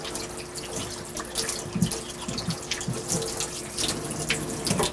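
Tap water runs steadily while a trout is scraped and rinsed beneath the stream, with soft splashes and knocks breaking through the continuous flow.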